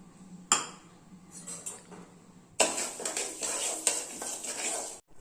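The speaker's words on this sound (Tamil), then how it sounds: "அடுத்தது சாமை அரிசி வறுத்துக்கலாம்" Little millet (samai rice) dry-roasted in a pan starts with a few metallic clinks of a spoon. Then comes a dense, loud rustle of grains stirred and scraped across the hot pan for a couple of seconds.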